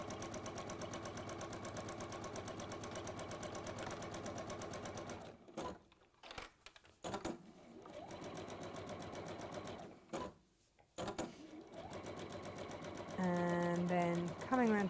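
A home sewing machine running a quarter-inch seam, a steady close whirring stitch hum with two short pauses where the fabric is turned, resuming before a brief higher mechanical whine near the end.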